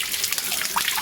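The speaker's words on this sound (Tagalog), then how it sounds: "Ito yung tinatawag na shower sa bundok mga karabas." Cold mountain water pours steadily like an open shower outdoors in the hills of Bicol, a continuous close splashing trickle with no talk.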